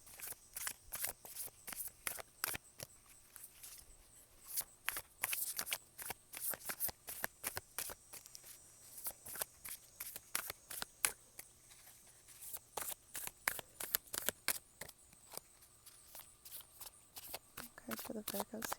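Close, quiet riffling and snapping of a deck of moon oracle cards being shuffled, in repeated bursts of crisp flutters with short pauses between them.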